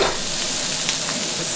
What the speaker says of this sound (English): It's just basically stir frying everything in for the filling